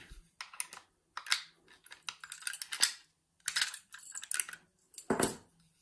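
A set of keys for a Sitex (Willenhall M1) five-lever mortice deadlock jingles and clinks in short bursts, close and fairly quiet, with brief pauses between handling sounds and no talk.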